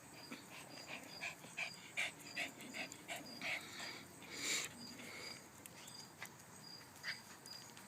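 Puppies and their parent dogs playing tug of war with a toy duck, with faint squeaks, whimpers, panting and scuffling in quick irregular bursts, fairly quiet and close.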